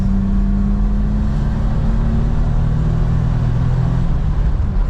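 A Suzuki Jimny turbo with an automatic gearbox drives along, its engine and road rumble loud and steady from inside the cabin throughout, with no talk.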